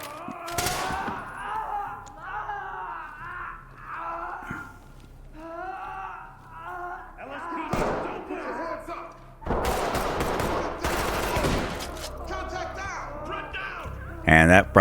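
Gunfire in the tactical shooter Ready or Not, bursts of shots and a rapid fusillade mixed with game effects, with someone talking over much of it.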